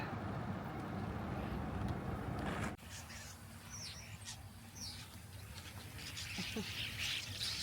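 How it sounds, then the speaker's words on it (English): Hundreds of starlings in a large flock over the Gettysburg battlefield near the Peach Orchard, a dense outdoor chatter of chirps and calls amid wind or traffic noise, with faint talking. "So many starlings. It's kind of spooky in the battlefield. Look at them all. There's like hundreds of them."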